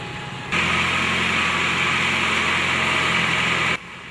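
A tractor engine pulling a trailer along a narrow, rough track through the Amazon jungle drones loudly and steadily for about three seconds, then drops back to a quieter background.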